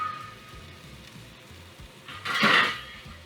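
Plating braised cauliflower steak: a quiet kitchen hum gives way to a brief, bright clatter of a dish and cutlery near the end.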